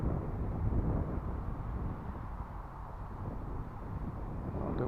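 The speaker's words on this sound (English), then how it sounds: "Now the wind's gusting" Gusting wind buffets the microphone outdoors at a stunt kite session by a lagoon, a steady low rumbling roar that swells and eases without any voices.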